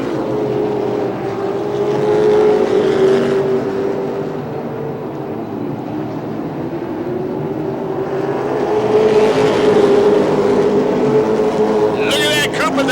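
Late model race cars roar past the start-finish line at Rockford in a steady, sustained engine drone that swells twice as the pack passes, heard under continuous race commentary.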